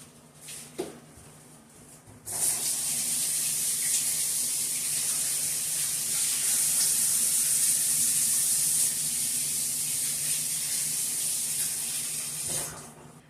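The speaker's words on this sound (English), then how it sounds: "I'm going to wash my hands real quick" Tap water runs steadily into a sink as hands are washed in a home kitchen while making blueberry pie dough, a loud continuous close splash after a short quiet start, cutting off near the end.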